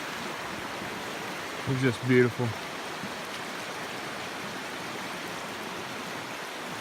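Three Forks River stream flowing steadily as a broad, even wash of water noise throughout, near and constant, with a short spoken remark partway through.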